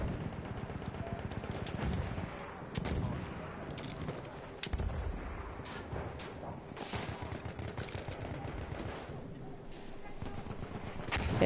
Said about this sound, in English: You can get a machine gun in this.